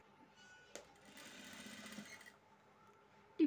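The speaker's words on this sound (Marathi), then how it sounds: "टिप मारताना हळूहळू मारून घ्यायची म्हणजे वेळी टिप येणार नाही अशीच मारावी" A sewing machine stitches the neck design of a size 38 blouse, running slowly with a quiet, even mechanical whir for about a second and a half, then stopping, with a faint clack just before and a knock at the end.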